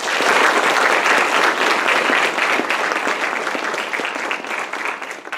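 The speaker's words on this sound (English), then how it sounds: "Please join me in thanking them with a round of applause." Sustained applause from a lecture audience in a library hall, dense and steady for several seconds before thinning slightly toward the end.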